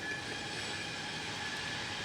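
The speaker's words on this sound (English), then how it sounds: "could you screech any louder, you stupid train?" A passing train gives off a continuous high-pitched wheel screech over a steady rolling rumble, loud and sustained with no talking.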